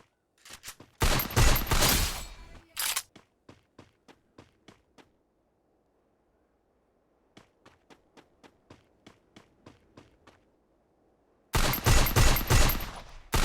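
Gunfire in the Free Fire video game: loud bursts of automatic fire at the start and end, with evenly spaced single shots and a quiet gap between them, no talking.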